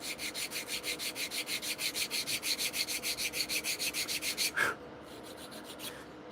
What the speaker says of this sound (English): Sometimes you have to get out your hand sander and get it to fit just perfect